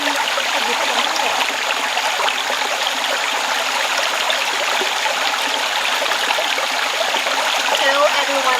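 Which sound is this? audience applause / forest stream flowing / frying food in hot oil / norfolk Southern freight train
forest stream flowing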